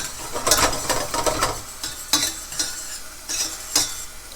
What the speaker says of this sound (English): we're just going to saute those up